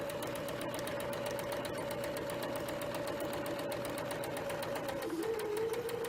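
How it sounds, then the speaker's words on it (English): A sewing machine stitching a 3/8 inch seam allowance on a French seam, a steady fast rhythmic whir and tapping running continuously, shifting slightly in pitch near the end, fairly quiet with no talk. "I'm going to back tack it, and I'm going to sew that 3/8 inch seam allowance."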